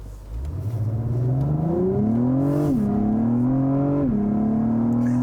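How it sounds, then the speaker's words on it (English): A 2021 Acura TLX Type S sport sedan in Sport Plus mode rises into a loud, close engine note with a building induction howl, pitch climbing, dipping briefly at each shift, then climbing again over about five seconds. "The TLX Type S definitely gets louder when it's in Sport Plus."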